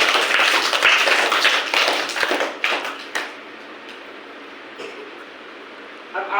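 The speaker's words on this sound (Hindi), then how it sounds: "ताली दो इसके लिए।" Children applaud together in a classroom, a burst of dense, busy clapping that is loud at first, thins out after a few seconds and gives way to scattered taps and murmur.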